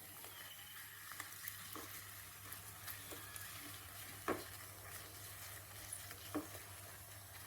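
Dried red chillies and asafoetida frying in hot oil, a faint, steady sizzle with scattered small pops and crackles throughout, and no talking.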